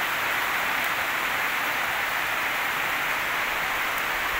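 A downpour of heavy rain gives a continuous, loud wash of noise, close and unbroken from start to finish, with no one speaking.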